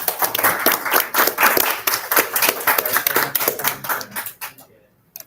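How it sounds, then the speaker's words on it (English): A crowd applauds with dense, steady clapping that thins out and fades to a few last claps at the end. "I want a round of applause for your speakers"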